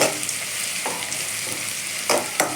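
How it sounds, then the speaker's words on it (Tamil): Onions sautéing for village-style tomato rice in a traditional vadai kadai pan, a steady broadband sizzle with a few louder scraping stirs, close and with no talking. "இந்த வெங்காயம் வந்து வணங்குறதுல தாங்க ஒரு சமையலோட டேஸ்ட்டே இருக்குது"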